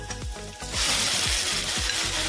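Ginger-garlic paste goes into onions frying in a pan, a bright steady sizzle that surges after a short quieter start, with a low rhythmic thumping underneath.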